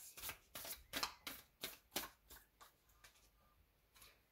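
Tarot cards are shuffled and drawn by hand, making a soft rhythmic series of riffling snaps and slides, close and quiet, with no talk over them.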